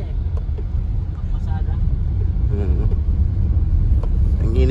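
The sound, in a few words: large jeep passing by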